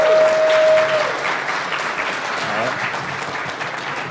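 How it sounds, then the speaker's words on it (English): Conference attendees at a security convention clap for two presenters, a loud burst of applause with a brief tone at the start, then softer lingering claps and faint crowd murmur. "please give them a warm round of applause"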